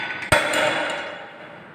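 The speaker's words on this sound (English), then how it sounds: "this hammer will strike the specimen with impact" An Izod impact tester's pendulum hammer strikes a test specimen in a strength of materials lab, one sharp metallic crack followed by a ringing decay that fades over the next second and a half, with no speech.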